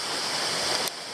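Shower Falls, a waterfall at Waterfall Bay in Tasmania, gives a steady, close, full-bodied rush of falling water that holds even and unbroken, then drops slightly quieter near the end.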